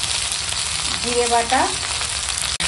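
Ginger-garlic and cumin paste hits a hot frying pan alongside prawns and vegetables, giving a dense, continuous close sizzle. Someone speaks briefly over it.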